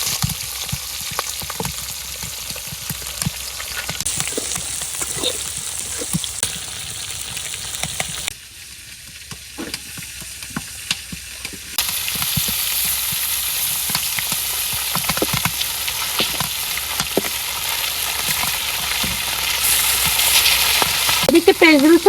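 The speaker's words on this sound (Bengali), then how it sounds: "এই কড়াইতে ভাজির লেগে আমি রসুন দিয়ে দিলাম," Garlic, onion and green chillies frying in oil in a wok, a loud continuous sizzle with frequent spatula stirs and scrapes, the sizzle growing brighter and fuller in the later part.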